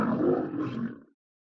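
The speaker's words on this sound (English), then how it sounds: "And a lion." A lion gives a single deep, rumbling roar, loud and close, that swells and then fades out within about a second, alone with no talk.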